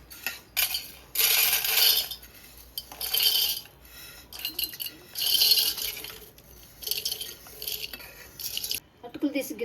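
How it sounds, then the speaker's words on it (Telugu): Lightly fried flattened rice (poha), toasted in a spoon of oil for bhel puri, is scooped into a bowl with a metal spoon, giving close, repeated bursts of dry rustling and scraping with small clinks. "అటుకులు తీసి గిన్నెలో పెట్టామండి"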